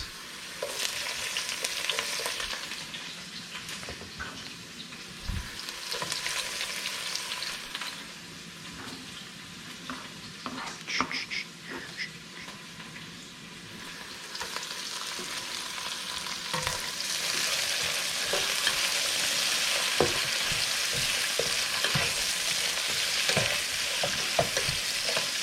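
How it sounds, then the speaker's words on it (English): Ginger and onions hit a hot pan for squid adobo and fry with a continuous crackling sizzle, interrupted by occasional stirring scrapes, growing louder and more intense toward the end, with no voices. "so we are gonna put in our ginger, and then our onions."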